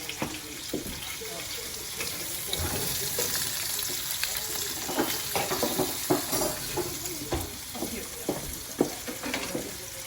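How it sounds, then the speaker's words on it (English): Jumbo shrimp are turned with tongs in a seafood boil with lobster tails and andouille sausage, giving steady bubbling and wet sloshing with a series of sharp clinks and splashes scattered throughout. "Turn those beautiful shrimp over."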